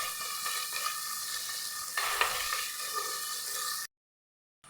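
Shallots and green chillies sizzle and fry in a hot pan with steady stirring, a continuous close hiss with a few scraping stirs, then cutting off abruptly into silence near the end.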